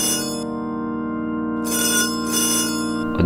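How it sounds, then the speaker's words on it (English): An old dial telephone rings in a Minecraft game, with loud, continuous metallic bell trills in repeated bursts and no other sounds. "A dial phone going off."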